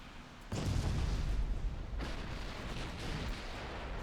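Torpedoes launch from a warship in the naval battle game Ultimate Admiral Dreadnoughts: a sudden deep boom followed by a sustained rumbling roar and a second softer thump, loud and close.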